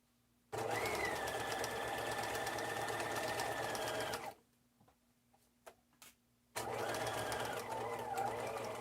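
A sewing machine runs a steady, fast whirring stitch along a satchel seam, stops for a couple of seconds with small clicks and handling noises, then starts stitching again nearby.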